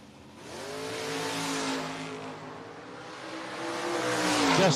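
Drag race engines from a Camaro and a Chevelle at a No-Box 660 Shootout roar up loud and close, their harmonic pitch climbing steadily as the cars accelerate hard down the strip.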